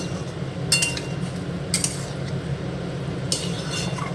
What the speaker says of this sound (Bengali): লোটে মাছগুলো কড়াইতে দিয়ে দেওয়ার পর এরকম আস্তে আস্তে নেড়ে নেবেন